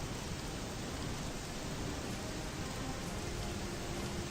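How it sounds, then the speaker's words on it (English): Steady, dense in-game rain from Morrowind (Project Tamriel), a constant full-band downpour hiss with no breaks, no music or talk audible, holding at even loudness throughout. "I hate not being able to hear the music over the rain."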